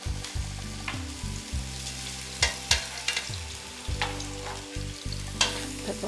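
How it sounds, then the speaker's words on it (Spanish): Meatballs searing in a Black & Decker electric skillet with a spoonful of hot oil, a close steady sizzle cut by hums and repeated clacks and scrapes as they are set down and turned. "Tengo la sartén eléctrica Black & Decker con tan solo una cucharada de aceite, ya está caliente. Entonces vamos a poner las bolitas para comenzar a cocinarlas."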